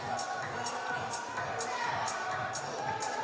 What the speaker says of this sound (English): UAE teammate cheering on his partner as he and the athlete from Kuwait have head to the air runner at the same time